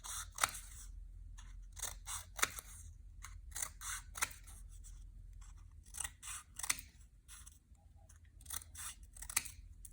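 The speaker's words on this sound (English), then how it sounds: "I'm gonna cut some more straight lines" Scissors snip through paper in straight lines, a series of quiet, close crisp cuts in irregular bursts with soft rustling between strokes.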